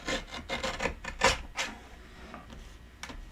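A blade or trimmer rasps along the edge of a paper card in quick rubbing strokes, loud and close at first, then fading into a few faint scrapes, with no talk.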